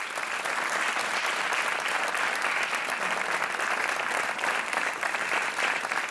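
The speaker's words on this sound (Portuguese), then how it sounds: "Um aplauso para o Hernani." A television game show's studio audience claps for a contestant, a sustained even burst of applause at moderate level with no talking over it.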